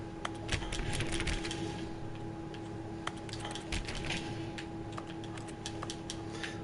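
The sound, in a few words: keyboard clicking noise in The Stanley Parable video game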